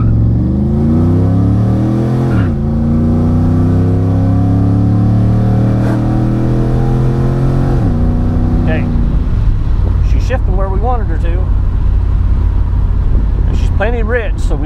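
A 1994 Camaro Z28 with a Torqhead 24X setup revving and accelerating hard, loud engine tone climbing through the gears with shift drops around two and eight seconds, then settling while people talk inside the car.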